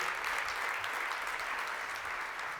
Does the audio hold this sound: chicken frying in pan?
no